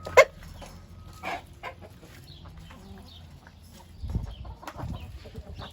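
Chickens in a backyard coop give scattered soft clucks, with a sharp brief call near the start and a louder low burst later, all at moderate distance.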